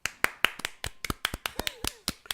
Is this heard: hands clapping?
yes